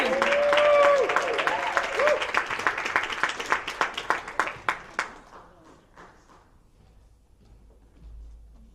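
An audience at a women's slam poetry event applauds a poet, starting as a full crowd of clapping and cheering and then fading into scattered, distinct claps, with talking underneath.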